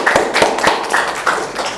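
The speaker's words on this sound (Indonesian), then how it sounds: "kita kasih tepuk tangan dulu ke Toti." A classroom of students claps for a classmate after a maths answer, a short burst of scattered hand claps with a few distinct louder slaps, moderately close.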